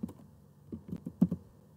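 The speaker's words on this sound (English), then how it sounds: "So when I come here and I try to type" Several soft keystrokes tapped on a Windows 10 PC or laptop keyboard, irregular and close, with quiet clicks spread over under two seconds and no talking.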